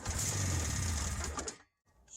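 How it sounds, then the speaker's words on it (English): A Yamaha XLV two-stroke snowmobile engine fires up on starting fluid, a loud, rapid buzzing run close by for about a second and a half before cutting out abruptly into silence. "Sure enough, fired right up on the starting fluid."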